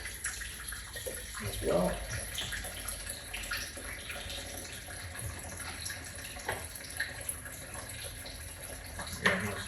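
Coolant drains from the radiator of a Ferguson FE35 vintage tractor, a faint continuous trickle and splash with a few clanks, while someone speaks briefly.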